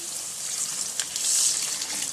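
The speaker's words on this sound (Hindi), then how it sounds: "एक कप पानी शामिल करेंगे," A cup of water is poured into a hot pan of fried spices and chilli powder, a short gushing splash with hissing sizzle rising in the middle.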